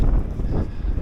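Strong coastal wind at Barry Island buffets the microphone in low, continuous rumbling gusts for about a second, with no speech.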